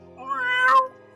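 A single clear cat meow in a tabletop game session, rising then falling over about half a second, fairly close and alone above a soft steady background.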